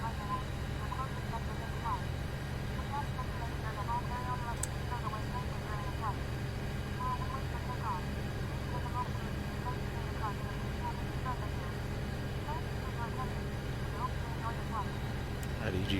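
Boeing 737 MAX jet engines in a flight simulator game hum as a steady, even drone with a low rumble and faint higher whine, constant and unbroken throughout, with no voice heard.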